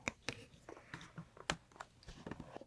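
Buttons on a light-up keyboard click in a quiet, close binaural recording, a series of soft irregular taps and clicks with no talking.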